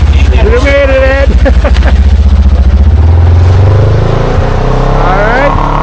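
A Kawasaki motorcycle rides past on an off-road trail in Box Canyon, a loud, close engine drone that rises and falls as it goes by, with voices over it.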